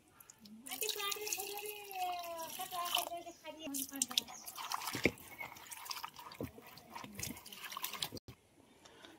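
Freshly picked soybean pods being rinsed clean in water, with splashing and dripping under a voice talking throughout.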